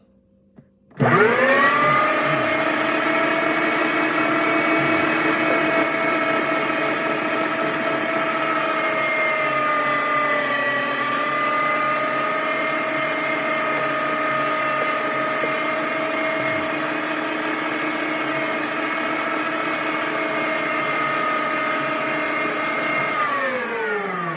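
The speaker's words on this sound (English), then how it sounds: "have a little grinder. This is a Browning." A Browning electric meat grinder, a small non-commercial unit grinding deer meat for sausage, switches on after a short click and runs with a steady loud motor whine and hum that holds for over twenty seconds.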